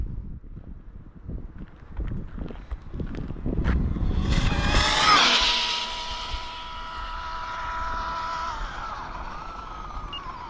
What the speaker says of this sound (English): First run ever for this car.